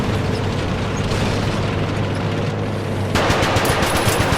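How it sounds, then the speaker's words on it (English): Heavy, continuous machine gun fire rattles in the War Thunder video game, a dense rapid stream of shots over booming battle noise that gets harsher and brighter partway through, with no talk. "See, he's shooting over them because the aimbot can target them."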